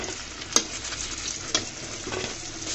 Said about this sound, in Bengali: আমার বেগুন ভাজা হয়ে গিয়েছে।